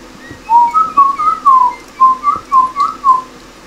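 A person whistles the melody of a song: a lively run of about ten clear, bright whistled notes in a bouncing rhythm, close by and with no talking over it.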